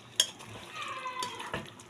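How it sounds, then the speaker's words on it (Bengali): A utensil stirs young jackfruit curry with garam masala and ghee in a pan, giving a sharp clink and then soft scraping and light sizzling. The sound is quiet and brief. "এবার এঁচোড়টা ভালো করে মিশিয়ে নিয়ে ঘি দিয়ে ঢাকা দিয়ে দেবো"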